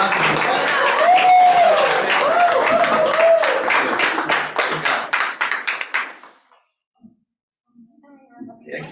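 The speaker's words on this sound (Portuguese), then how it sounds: "Você pode aplaudir o Senhor" A church congregation claps and applauds during a celebration service, a loud crowd of hands over singing voices that breaks into a few scattered final claps and fades to near silence.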